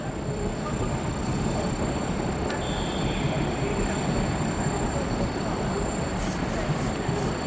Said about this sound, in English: So here's some of the older trains.